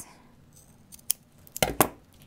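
Scissors trimming ribbon for a pinwheel hair bow: a few light snips, then two louder close cuts near the end over a quiet background.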